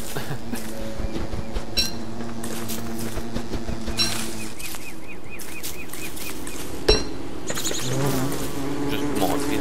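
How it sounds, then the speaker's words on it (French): Bees in the Don't Starve video game buzz steadily and close throughout, a wavering insect drone mixed with other game effects, with occasional soft talk in the background. "Juste pour montrer, là, je peux attaquer une abeille."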